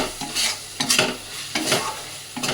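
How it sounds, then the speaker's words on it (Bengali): Spices and Everest biryani masala are stirred and fried together in a pan. A spatula scrapes in repeated strokes over a steady, close sizzle. "এগুলো সব মশলাগুলো একসাথে ভালো করে কষিয়ে নেব"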